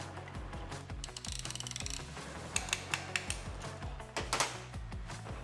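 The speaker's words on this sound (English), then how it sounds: "we put our piston compressor tool on, making sure every ring gets trapped in it" Ratcheting piston ring compressor tool tightening around a piston on a rebuilt Audi A6 engine; a quick run of close metallic ratchet clicks, then slower separate clicks and clanks.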